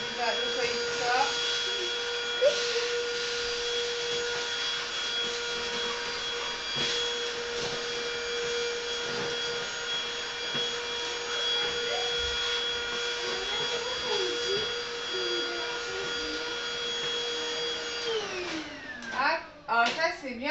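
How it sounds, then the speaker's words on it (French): A household vacuum cleaner runs at home, a loud steady whine with a constant motor hum, then winds down sharply near the end as a person's voice briefly comes through. "ces aspirateurs, c'est vraiment, ils passent vraiment de partout"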